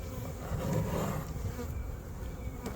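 Honey bees buzzing from an open hive, a dense steady hum of many insects close by, continuous and moderately quiet, with no voices.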